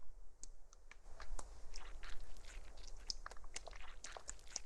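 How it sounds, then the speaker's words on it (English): Wet chewing and crunching in the dark setting of Arknights, rendered as someone munching on flesh: a steady stream of close, irregular squelching bites and clicks, soft overall, with no talking. "It's like someone munching on flesh."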